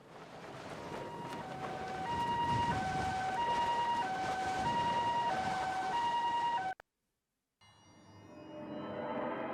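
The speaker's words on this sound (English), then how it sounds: "Okay, we heard sirens." Video game I/O plays a wailing siren that rises and falls in a repeating two-tone pattern over a rumbling backdrop, cuts out briefly, then returns more faintly.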